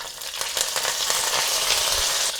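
Mustard seeds, slit chilies and curry leaves sizzle in hot oil for a home-style pakora kadhi, giving a steady, close, loud crackling hiss with small pops throughout and no voices.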